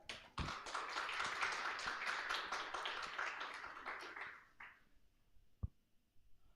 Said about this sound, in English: Let's give a big round of applause for the team behind Tisakti Cortex